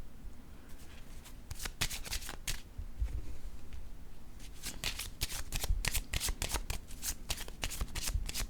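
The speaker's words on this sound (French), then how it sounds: "Je vais déposer une carte ici." Playing cards handled and laid down on a surface, with repeated crisp riffling bursts and sharp slaps, close and fairly quiet, with no talking.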